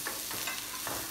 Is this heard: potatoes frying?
yes